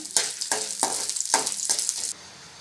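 Lentils and three dried red chillies fry in a kadai, giving a steady hot sizzle broken by several sharp bursts as they are stirred, close and fairly loud, with no talking.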